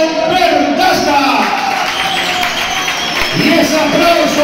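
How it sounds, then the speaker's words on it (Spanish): Crowd applause at a CD Mirandés 23/24 team presentation rises as a broad, steady wash of clapping and cheering in a large venue, with an announcer's voice running over it. "Y ese aplauso para esa pronta recuperación."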